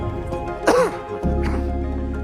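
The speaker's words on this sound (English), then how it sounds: "I just keep clearing my throat" A single rough throat clearing, close and fairly loud, followed by a low rumble of background noise.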